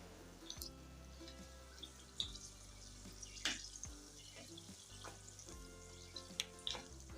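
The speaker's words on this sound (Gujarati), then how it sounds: "આપણે બાકીના મરચાં છે એને પણ તળવા મૂકી દીધા છે" Stuffed chilli bhajiya (bharela marcha fritters) browning in hot oil, giving a steady close sizzle with scattered crackling pops and bubbling.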